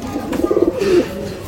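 A male Rampuri pigeon gives a short close coo: a quick run of pulsing notes that ends in one drawn-out rolling tone, loud and alone.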